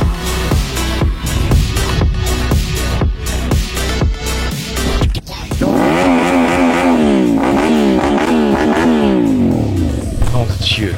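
A BMW K1600 motorcycle revs hard during wheelie and stoppie stunts, its loud engine climbing and falling in repeated throttle blips, then a long wavering high-revving wail, with talk over parts of it.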